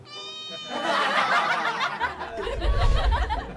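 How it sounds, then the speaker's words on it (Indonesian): A short cat meow opens the clip, followed by a burst of laughter and noisy chatter with a low rumble underneath. "Kucingnya lucu, Fir."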